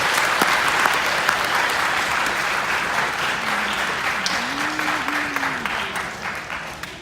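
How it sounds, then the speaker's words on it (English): At a school concert, an audience applauds the jazz band with a long, even round of clapping that slowly fades, while a voice murmurs briefly in the middle. "Let's get one more round of applause for our jazz band."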